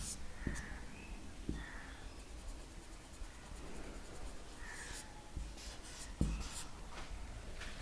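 Marker or chalk strokes on a board during a Bangla English-grammar lesson, a few scratchy squeaks and light taps spread over several seconds against a faint room hiss, with no talk.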